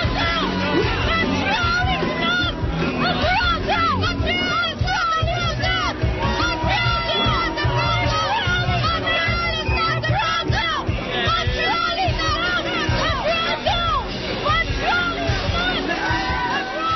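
Protesters scream and yell in unison at a Montreal auto show near the Alfa Romeo display, a loud, dense mass of shouting voices that continues for the whole stretch.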